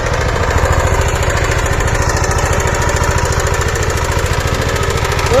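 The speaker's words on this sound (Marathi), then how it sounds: "आणि ट्रॅक्टर बघा कोण फिरवतोय, फार मोठा माणूस आहे ट्रॅक्टर फिरवणारा." A tractor engine runs out in a farm field with a loud, close, rapid chugging pulse that holds an even rhythm throughout.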